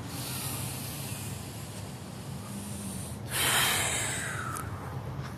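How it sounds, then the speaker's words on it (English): A single deep breath, a soft hiss of air heard alone and fairly close, swelling briefly after a quiet stretch. "Deep breath."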